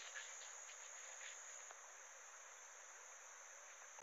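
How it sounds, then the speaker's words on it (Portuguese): Steady, high-pitched cricket chirping fills the air continuously, a dense shrill trill with faint background hiss and no voices. "Olha o canto do grilo."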